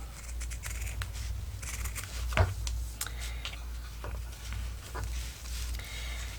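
Scissors snip through paper for a monochrome softcover junk journal, a few soft close clicks and rustles with one sharper cut near the middle, over a steady low background hum.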